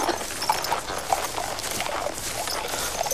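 Horse hooves clip-clop at a walking pace, a run of faint, regular knocks on hard ground under steady outdoor ambience.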